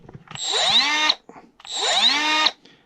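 A cordless power drill fitted with a small 2 amp battery spins up twice in quick succession, each a loud whine of about a second that climbs in pitch and cuts off abruptly.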